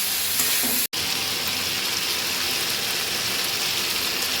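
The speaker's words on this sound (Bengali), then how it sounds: "এটাকে দিয়ে আমি একটুখানি কষিয়ে নেব, যেহেতু আদা আর রসুনের কাঁচা গন্ধটা যাতে চলে যায়।" Ginger, garlic and green chili paste fries in a pan for mutton korma, making a loud, dense, close sizzling hiss that cuts out for an instant before resuming.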